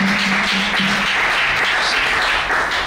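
A church congregation applauds together in a room, giving a dense, steady clapping with some cheering that carries evenly through the whole moment.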